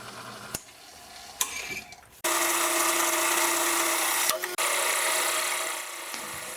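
A 21.5 mm hole saw bites into material for a motorcycle maintenance lift, starting with a few brief scrapes before a loud, steady grinding whir runs for several seconds, breaks off briefly, then resumes and fades.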